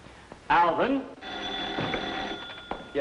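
An office telephone bell rings in one sustained stretch with a steady tone, after a short spoken line and followed by more talk.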